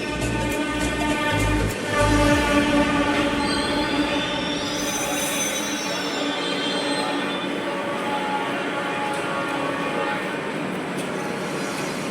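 A metro train rumbles along rails with a high, sustained wheel squeal and droning hum, loud and continuous, as if heard from inside a carriage.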